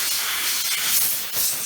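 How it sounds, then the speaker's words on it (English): Steady hiss of compressed air blowing dust off the motor of a vintage Lasko oscillating fan, loud and continuous for a couple of seconds with slight surges. "we'll use some compressed air here and get this thing clean"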